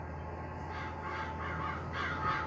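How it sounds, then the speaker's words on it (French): Crows caw over a field during evening barley sowing, repeated harsh calls at moderate distance over a steady low rumble of farm machinery. "On entend bien les corbeaux quand même."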